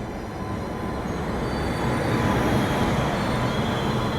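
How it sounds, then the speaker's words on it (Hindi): Sikkim Mahananda Express train drawing in at a busy Indian junction station near Ghaziabad, a steady loud rumble of wheels and carriages building slightly and holding, with no voices over it. "सामने कोई तो ट्रेन आ रही है"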